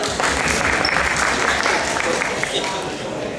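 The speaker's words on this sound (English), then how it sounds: "Let's give them a round of applause." Loud, dense applause from an audience as board members of a sister-cities organization come to the stage at a humanitarian program, sustained throughout with faint crowd chatter underneath.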